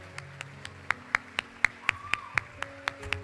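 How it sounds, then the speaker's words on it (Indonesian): Slow, sparse hand claps from an audience at a school graduation ceremony for a junior high in Samarinda, about a dozen distinct claps at a steady rhythm over faint background hum. "hari kita berikan tepuk tangan yang meriah untuk Ustadz Ustazah kita semua"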